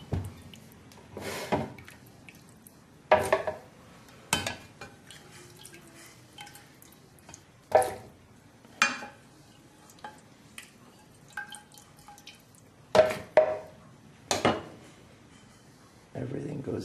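Irregular splashes and drips as tomato and carrot soup ingredients drop into a pot of water, spaced every few seconds, close by, with faint clinks in between.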